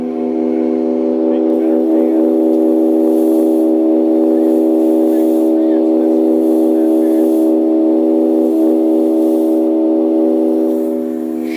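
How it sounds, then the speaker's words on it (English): A radon fan discharges through a reducer and gives off a loud, sustained whistle. The piercing, stacked tone holds steadily for over ten seconds and fades slightly at the end. "can make a 3-inch whistle with that fan"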